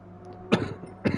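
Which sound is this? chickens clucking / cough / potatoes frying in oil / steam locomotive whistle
cough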